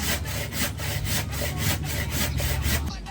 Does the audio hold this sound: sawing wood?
yes